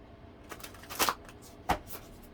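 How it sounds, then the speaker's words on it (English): A deck of cards is shuffled in a quiet room, with short papery riffles and two sharper snaps in quick succession, faint and close. "Actually, let's do a big shuffle."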